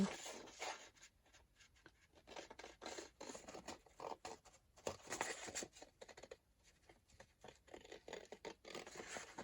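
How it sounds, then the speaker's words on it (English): Quiet, irregular scraping and snipping of old, slightly tacky scissors cutting paper for a craft, close by, with short bursts of rasping contact and brief pauses. "I'm using my old scissors"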